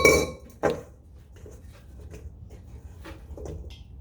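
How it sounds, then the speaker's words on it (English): Cooked plantains being moved into a bowl, with a sharp clatter of utensil against dish at the start, then soft scattered clinks and scrapes of kitchenware, quiet and intermittent. "So now I'm gonna transfer this into my bowl."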